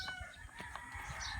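Farm hens and chickens cluck and crow close by, a quick jumble of sharp calls and short cackles overlapping one another.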